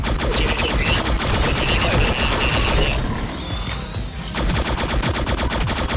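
Rapid, continuous bursts of automatic gunfire in the video game Shadowgun Legends, with a hard, synthetic edge, loud and dense, briefly easing before resuming at full intensity.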